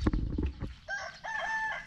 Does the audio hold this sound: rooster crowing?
yes